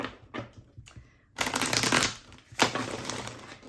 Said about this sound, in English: But just give this one more good shuffle.